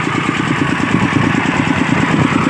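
A small engine-driven water pump runs steadily in a rural rice field, a constant close mid-pitched engine drone with an even, slightly pulsing rhythm throughout and no voices.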